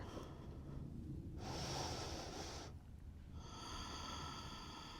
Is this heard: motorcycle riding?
no